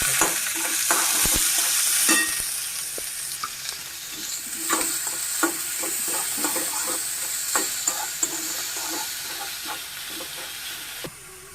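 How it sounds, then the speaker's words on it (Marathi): Onion frying in oil with mustard seeds, curry leaves, cumin and finely chopped green chilli, a loud steady sizzle with a hissing burst near the start and scattered scraping stir clicks throughout, no talk. "मोहरी टाकले. त्याला कढीपत्ता, जिरे आणि बारीक चिरलेली हिरवी मिरची. इथे लागले कांदा."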